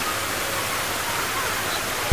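Iguazu Falls on the Iguazu River roaring as a dense, steady broadband rush of falling water, loud and unbroken for the whole stretch.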